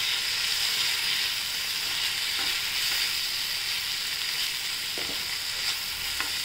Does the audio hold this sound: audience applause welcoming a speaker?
no